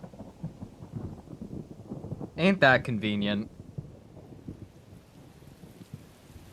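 Steady rain with low rolling thunder in the video game Tales of Berseria, a continuous rushing wash throughout, briefly covered by a short spoken line near the middle.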